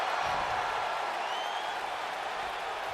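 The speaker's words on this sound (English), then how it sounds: "Bret getting energy from this crowd here in Anaheim." Arena crowd at a wrestling match in Anaheim, a steady dense roar of cheering and noise filling the whole space without pause, loud and continuous throughout.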